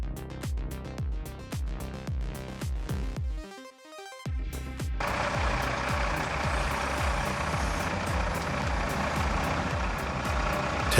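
A 19-ton Volvo loader works at a tree-felling site, its heavy diesel engine rumbling loud and steady with reversing beeps; the engine briefly drops off, then returns with a rougher, broader roar.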